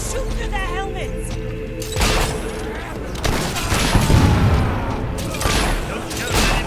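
Battle gunfire from soldiers shooting in the fantasy RPG Fable III, a dense crackling fusillade with booms and thuds mixed under music and shouted voices, loud and continuous.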